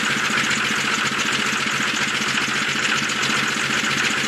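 A 1995 Dodge Ram 2500 with a 12-valve Cummins diesel idles just after a cold start at 17°F, a steady, loud, rough clatter with a constant low throb and no talk over it.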